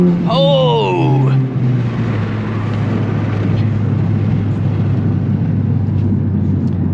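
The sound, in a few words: Honda Civic Type R accelerating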